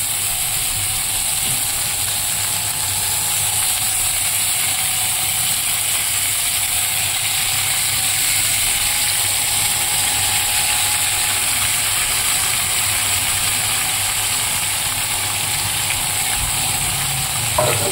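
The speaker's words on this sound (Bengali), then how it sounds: "এবার আমি মাছ ভাজা তেলটা দিয়ে দেবো, সেই তেলে আলু আর ফুলকপিটা ভেজে নেব" Potatoes and cauliflower frying in oil left over from frying fish, a steady loud sizzle and crackle that continues without pause, with a faint metallic scrape near the end.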